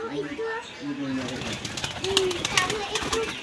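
Pigeons kept as domestic birds coo in low, rounded phrases, several soft coos repeating over a few seconds while people talk nearby.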